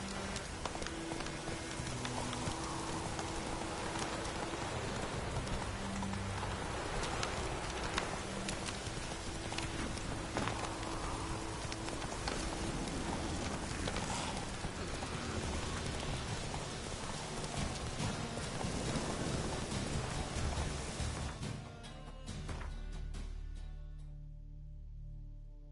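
Roach, a horse in The Witcher 3, galloping with rapid rhythmic hoof clops over a steady rain-like wash, loud and continuous before fading near the end.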